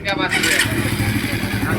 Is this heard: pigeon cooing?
no